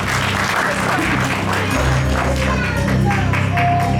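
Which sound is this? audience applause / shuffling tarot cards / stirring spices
audience applause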